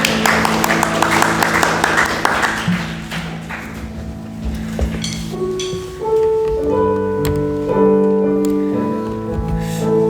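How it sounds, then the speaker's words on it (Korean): A congregation applauds during a Korean Sunday worship service in church: a dense wash of clapping fills the first few seconds, then fades as sustained keyboard and instrumental tones take over. "우리 하나님께 영광의 박수 돌리겠습니다"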